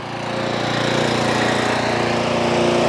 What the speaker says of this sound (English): Alrighty, so the lawnmower started, and now we have to confirm our repairs.